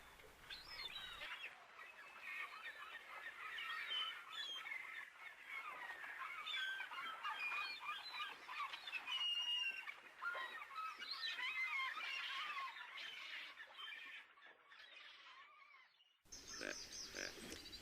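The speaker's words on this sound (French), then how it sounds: "Puis des oiseaux superbes, aux coloris divers." Many birds call in an enclosure in the Ecuadorian Amazon, a busy overlapping mix of honking, squawking and chirping that goes on throughout, faint and from mid-distance, with no talk.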